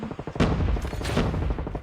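Gunfire in a video game sounds in loud, rapid bursts like automatic weapons, dense and continuous across the short moment.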